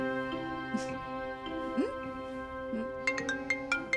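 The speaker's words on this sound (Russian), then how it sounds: "А кто это нам звонит?" An incoming call's melodic ringtone starts up near the end during a family New Year scene, rising over soft background music and voices.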